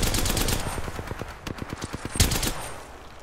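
Full-auto gunfire in a video game rattles in a rapid, steady stream of sharp close shots, with a couple of heavier bursts toward the end and no talk over it.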